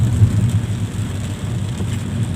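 Steady rain drumming on a vehicle during a drive toward a roundabout, a dense continuous low rumble with hiss, fairly loud and unbroken with no talk.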